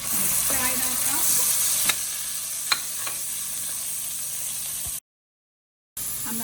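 Onions and pimentos frying in oil in a pot give a steady, soft sizzle, with a couple of sharp utensil clicks and a brief break in the sound.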